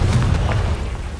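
A Confringo spell blast in the Hogwarts Legacy video game: a deep, rumbling boom that swells in quickly and rolls on for about a second, loud and close with no talk over it.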